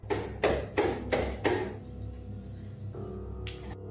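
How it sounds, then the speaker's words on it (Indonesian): Five sharp knocks on a door come in a quick, evenly spaced series, then give way to a quieter hum with a brief high-pitched tone near the end; no one speaks. "Ketukan aneh terdengar di pintu,"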